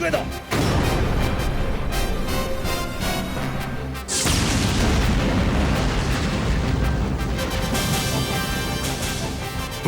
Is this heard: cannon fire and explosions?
yes